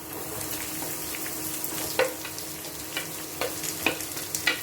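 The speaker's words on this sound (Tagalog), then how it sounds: "Nagbo-brown na rin ang bawang, isunod na natin ang sibuyas." Onions dropped into a pan of browning garlic sizzle steadily, with a spatula scraping and tapping at intervals as the mix is stirred, close and clear with no talking.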